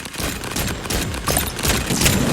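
Gunfire at targets in the Carnival Shoot out video game: a rapid string of sharp, crackling shots fired in quick bursts, loud and close, with no pauses between volleys.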